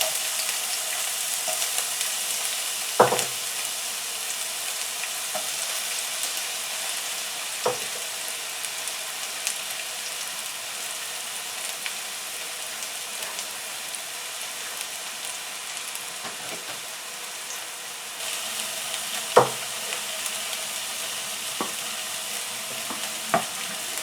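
Chopped onions sizzle steadily in a hot pan while chicken doner kebab is prepared, a continuous close frying hiss broken by a few sharp scrapes and stirring knocks, with no voices.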